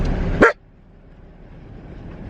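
A single sharp bark from a dog riding in a vehicle while passing rocks on a mountain road in Davis Mountains State Park, close and loud, followed by a quiet low rumble of the moving vehicle.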